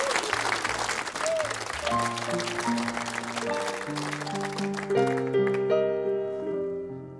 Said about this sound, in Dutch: Dames en heren, een applaus voor Richard Groenendijk.